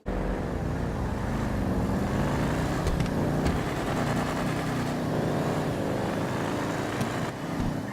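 A car engine roaring steadily through a street race in GTA 5, with sustained revving and a few sharp shift clicks, loud and continuous for the full eight seconds with no talking.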